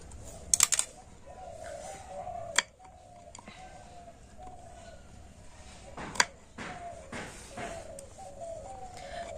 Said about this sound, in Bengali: কাঁচা লঙ্কা দুটো একদম আমি এইভাবে সরু সরু করে কেটে নিচ্ছি একদম মিহি করে কুচিয়ে নিচ্ছি